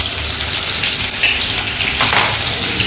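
Onions fry in hot oil for fried rice, giving a loud, continuous close sizzle with crackling throughout.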